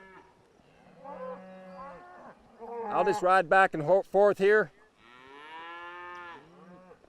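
Cattle moo in a loud run of drawn-out calls nearby during horseback cattle handling, set between stretches of someone talking.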